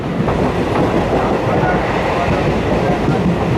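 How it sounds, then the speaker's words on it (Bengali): A train heading toward Nabadwip runs after leaving Dhatrigram station, giving a loud, steady rumble with rhythmic clatter of wheels on the rails from inside the carriage. "ট্রেন ছেড়ে দিয়েছে ধাত্রীগ্রাম থেকে"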